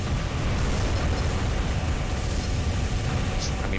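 Dense, continuous roaring blasts of howitzer shells exploding in Armored Core 3 Silent Line, loud and close, a thick wall of rumbling noise with no clear breaks between impacts.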